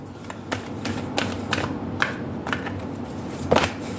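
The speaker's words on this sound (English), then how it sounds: "I'm going to lay down all your cards before we begin the reading" Tarot cards are handled and laid down on a surface for a reading, producing a run of quick papery flicks and soft slaps at an uneven rhythm, close up over a dense background hiss.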